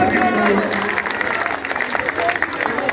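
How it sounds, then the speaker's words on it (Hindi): A large crowd at a Ramlila performance in India claps loudly for a few seconds, the applause mixed with a voice over a public address system. "जोरदार तालियां भाई।"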